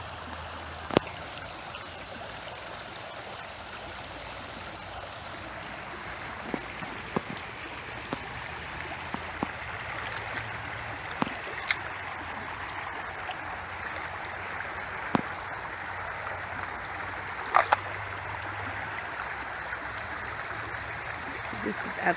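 A stream running through a narrow deep channel, a constant rushing wash of water with occasional sharp ticks and splashes, near and steady throughout, no talking.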